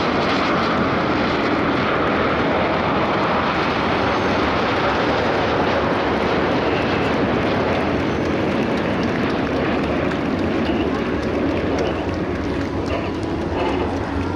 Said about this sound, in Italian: Siamo completamente circondati dai velivoli della pattuglia acrobatica nazionale.